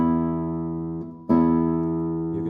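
Guitar notes sustain as held tones, fade briefly, then a fresh chord is struck at a louder level, mixing stronger and softer voices, close and clear with no speech.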